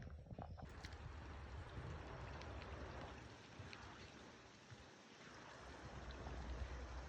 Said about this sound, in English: Coming up on another little footbridge and pretty little stream